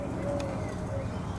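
Doves coo softly in the background, a brief low call under a steady ambient wash.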